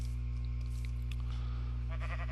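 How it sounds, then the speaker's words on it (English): Sheep bleating in Minecraft, a few soft, wavering calls over a steady low hum, near and fairly faint. "I hear the sheep that I saw were over there already"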